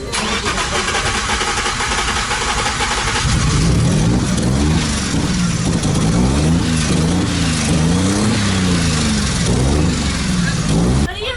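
A drift car's engine howling at a drifting competition, loud and continuous, its pitch rising and falling in repeated revving swells as the car slides sideways, over a constant roar of noise.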